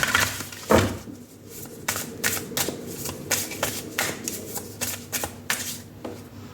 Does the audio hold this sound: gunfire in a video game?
no